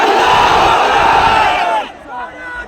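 Large crowd at a political rally in Govandi, Mumbai, roaring a chanted slogan in unison, loud and dense for about two seconds before cutting off into quieter murmur.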